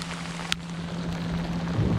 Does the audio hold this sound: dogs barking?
no